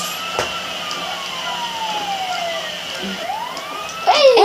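A video game police siren in Lego Marvel Superheroes 2 wails, sweeping up and down continuously, fairly close, with a brief louder burst of chirping tones at the end.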